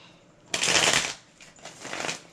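Tarot cards are shuffled close by in two bursts of crisp, riffling paper flutter, the first longer and louder, the second softer after a brief pause.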